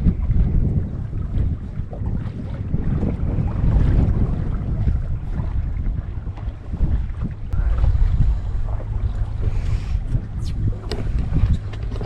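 Wind gusts across a bay boat anchored in the open Everglades, producing sustained rushing and microphone buffeting that rises and falls in waves.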